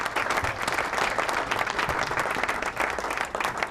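Studio audience applause at a PTV tribute program for Mehdi Hassan, a dense, sustained wave of clapping with a few louder bursts, no talk over it.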